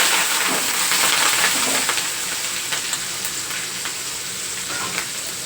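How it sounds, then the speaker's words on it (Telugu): Curry leaves frying in hot oil with turmeric for a mint chutney tempering, giving a steady, close crackling sizzle throughout with faint stirring clicks and no voices. "కరివేపాకు కూడా వేసేసుకుని దోరగా వేగిపోయింది కదా"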